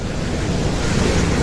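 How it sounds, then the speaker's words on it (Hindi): Heavy rain pours outdoors in a market street, a dense, loud, unbroken wash of noise with a buffeting wind-like roar and no voices. "बहुत ज़्यादा बारिश हुई है जी, आधा पौना घंटा बारिश हुई है,"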